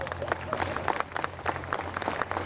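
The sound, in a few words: audience applause at a Disneyland Paris show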